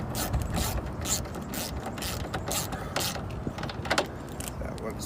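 A ratchet with a 5.5 mm socket tightens a headlight bolt on a 2005-2007 Ford Super Duty truck, giving a faint, steady run of small clicking pawl ticks with a few sharper clicks, quiet and close with no talking.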